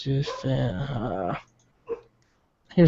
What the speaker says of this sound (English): my damn dog is barking in the background.